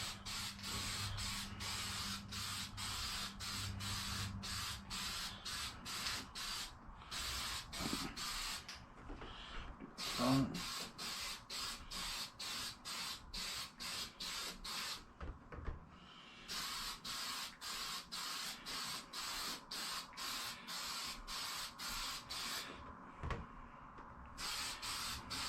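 An aerosol can sprays a dark coat onto a JConcepts Firebird body shell for a Traxxas Drag Slash RC car, heard as close, rapid, repeated hissing bursts separated by brief pauses.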